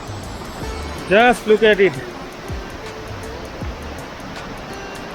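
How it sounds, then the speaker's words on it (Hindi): A waterfall on the Rudranath trek rushes in a steady broadband wash throughout, with someone briefly speaking over it near the start. "एंड दिस वाटरफॉल और जो इसका साउंड है इज रियली अमेजिंग"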